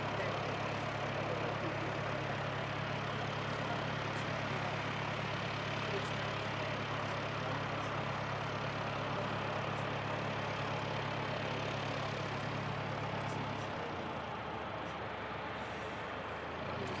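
Aircraft taxiing slowly toward the holding point at Christchurch Airport, a steady low engine drone heard from a distance, constant for most of the stretch before the low hum drops away near the end.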